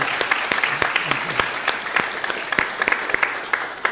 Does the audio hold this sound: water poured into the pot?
no